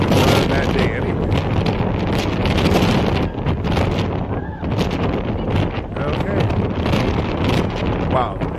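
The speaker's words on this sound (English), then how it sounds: "Wow, that's a windy day." Strong wind roars and buffets the microphone continuously, loud and gusty throughout, with faint sounds beneath.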